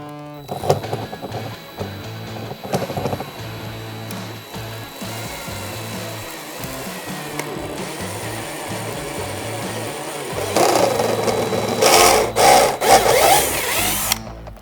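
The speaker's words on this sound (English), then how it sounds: "we're just gonna drill straight through that and down through the splitter" A power drill bores through a 2020-2024 Chevrolet Corvette C8 front splitter at the factory lip mounting point. Music plays at first, then a louder, rough burst of drilling follows near the end.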